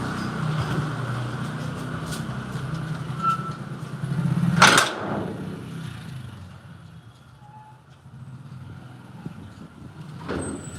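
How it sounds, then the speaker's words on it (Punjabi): A motorcycle engine drones nearby, swelling to a loud peak midway before fading off as it pulls up at a house after heavy rain; quiet background afterward. "ਮੋਟਰਸਾਈਕਲ ਆ ਗਿਆ"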